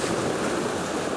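Surf rolling onto a windswept, stormy Donegal beach: continuous loud broadband wash of breaking waves with wind noise, steady throughout with no distinct breaks, no voices.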